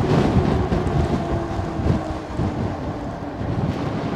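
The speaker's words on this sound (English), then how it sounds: "I have a lot of wind too, so." Strong wind blowing outdoors buffets the microphone, a loud continuous rumbling roar with gusty swells throughout and no voices.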